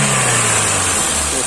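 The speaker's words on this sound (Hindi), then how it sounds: "इंजन भी जो हल रहा था वो भी हलना रुक गया है और फायरिंग भी इसका स्मूथ हो गया है।" Hyundai i10 petrol engine idling steadily and smoothly after a spark plug and coil wire change, a loud, close, even hum with no misfire stumble, running alone without talk.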